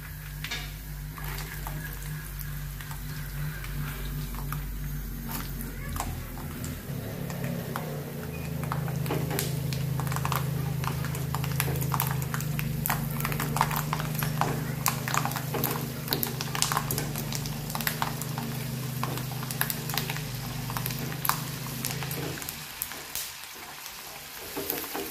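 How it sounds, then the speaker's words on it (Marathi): Peanuts frying in hot oil in a pan at home, a steady dense sizzle with a low bubbling hum that continues throughout and eases slightly near the end, with no talking. "ते शेंगदाणे आता मी आपले तळलेले आहे।"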